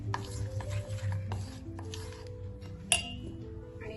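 A spoon stirs a sweet cardamom-and-ghee mixture in a metal pot, giving soft scraping strokes with light clinks and one sharp clink near the end, close and alone.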